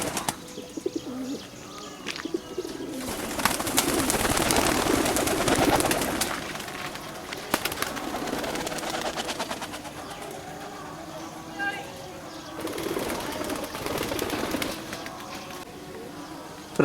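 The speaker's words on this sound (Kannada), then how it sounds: "ಬರ್ಡ್ಸ್ ಎಲ್ಲ ಹೊರಗಡೆ ಬರ್ತಾ ಇದ್ದಾವೆ." Racing pigeons leave their loft through an opened door in bursts of wing flapping and fluttering, with soft cooing and chirps between the flurries, close by and fairly loud in waves across the recording.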